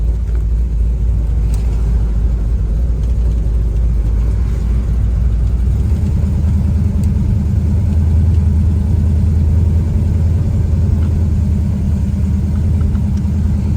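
A 1969 Pontiac GTO's engine rumbles loud and steady from inside the cabin while driving, a deep continuous drone that grows heavier partway through as it pulls harder.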